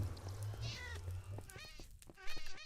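Minecraft cats meow repeatedly in the game, several nearby meows overlapping and following one another, with a person talking faintly beneath them.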